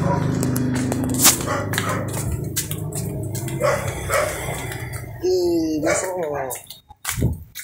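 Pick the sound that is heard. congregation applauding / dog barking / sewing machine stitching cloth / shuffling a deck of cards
dog barking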